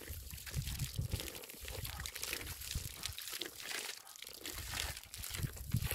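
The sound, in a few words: water flowing from a spout, Melamchi drinking water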